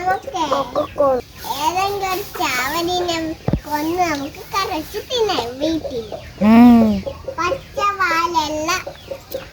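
A voice imitates a chicken's clucking and crowing in a series of sing-song calls, with a voice mixed in throughout.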